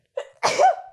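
A single person sneezes once, a quick inhaled catch followed by a sharp, loud burst, close and isolated against silence.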